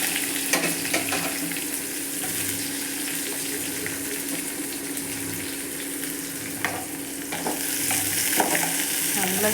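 Onion frying in oil with mustard seeds, curry leaves and green chili, a steady loud sizzle with a spoon scraping and stirring through it at close range, no talk.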